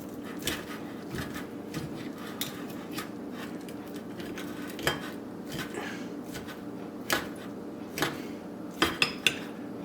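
A steak knife cutting tough baked marinated chicken breast on a plate, with repeated light scraping and clinks of metal against the dish, soft and fairly close, no talking.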